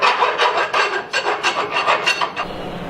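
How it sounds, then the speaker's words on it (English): A deburring tool rasps around the inside edge of a cut metal tube that will take a threaded bung, giving a run of about ten quick, close scraping strokes in a steady rhythm with no talk. "deburr the inside just a little bit"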